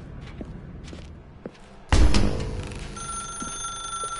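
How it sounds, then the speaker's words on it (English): A telephone rings in a dark room in The Stanley Parable video game, a loud thump followed by a sustained electronic ring that continues steadily with no voices. "Now pick up the phone"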